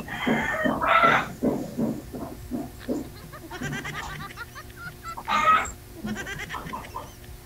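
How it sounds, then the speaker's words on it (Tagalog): Chickens cluck and squawk nearby in Saudi Arabia in a run of short, uneven calls, with several louder bursts breaking through the busy farmyard noise. "May manok kasi."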